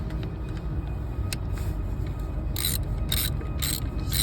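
A ratchet snugs down 10mm bolts on the ECU of a 2007 Saab 9-3 2.0t, giving rapid pawl clicks that arrive in several bright bursts over the second half, close by, with a steady background hum and no talk.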